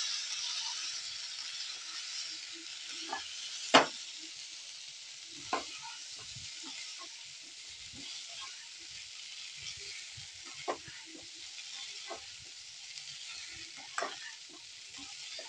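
Leftover idli pieces being stirred and mixed in a frying pan, a faint continuous sizzle broken by occasional sharp scrapes and taps of a spoon against the pan.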